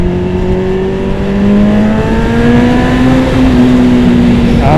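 A 2001 Kawasaki Ninja ZX7R, running with a dirty fuel filter, revs up hard on the road, its engine pitch climbing steadily and loud over a few seconds.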